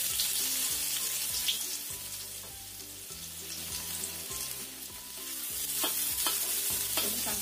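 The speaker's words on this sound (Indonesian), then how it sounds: "Kita masukkan dulu, tumis dulu bawang putihnya." Garlic sautéing in about three tablespoons of hot oil in a pan, a steady bright sizzle with rhythmic stirring scrapes of a utensil throughout, close and continuous, no talking.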